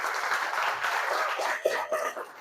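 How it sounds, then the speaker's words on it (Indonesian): A classroom of students claps for a presenting group, a steady patter of many hands at moderate loudness with a few faint voices underneath. "Oke, berikan tepuk tangan untuk kelompok ini."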